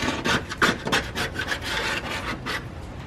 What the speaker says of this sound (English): we're gonna use a pick to scrape off all of the rubber before we roll the fenders